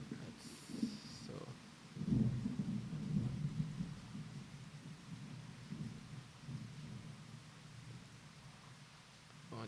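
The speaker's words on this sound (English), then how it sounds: "I want to go and enjoy the rain." A thunderstorm with rain: low rolling thunder rumbles building and fading over a soft steady wash of rainfall, fairly faint and distant, with a brief faint voice early on.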